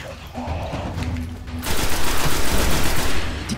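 Grenades explode in the Destiny beta on PS4, a dense burst of gunfire-like blasts that swells loudly after the first second and keeps rattling to the end, with no talk.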